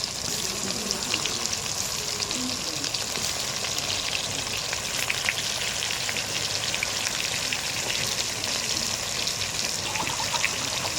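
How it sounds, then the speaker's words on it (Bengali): Pointed gourd (potol) pieces fry in hot oil, giving a steady, even crackling sizzle that runs unbroken and moderately loud, with no talking. "চলুন তেল গরম হয়ে গেছে, এই যে দিয়ে দিলাম। পটলগুলো লাল লাল করে ভেজে নেবে।"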